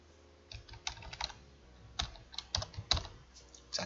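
Someone types on a computer keyboard in irregular clusters of close, crisp key clicks with brief pauses between them and no voices.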